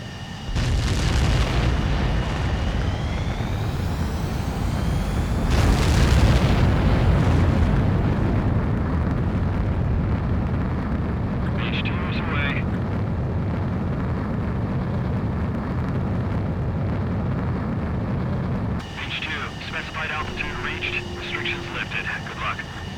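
Jet fighter roaring through a takeoff launch in the flight game Ace Combat 7, a loud sustained engine rumble with rising whine, radio voices talking over it near the end.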